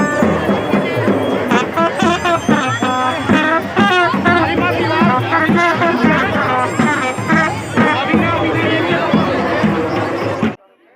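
A large crowd at the Chhath festival ghat in Belaur, Bihar, with a loud, continuous babble of many voices, shouts and chatter close by, busy throughout before cutting off abruptly at the end.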